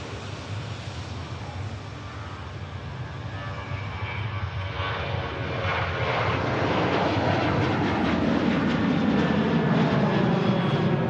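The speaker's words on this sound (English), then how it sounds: "Ryanair 737 taking off on 23 right." A Ryanair Boeing 737 jet taking off on runway 23 right at Manchester Airport, a broad roaring engine rumble that swells steadily louder over about eleven seconds, heard at a distance with no talk.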